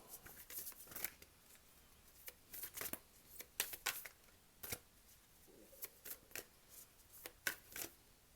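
Tarot cards being shuffled up close, a series of quiet riffling flutters and soft snaps spaced irregularly, with no talking.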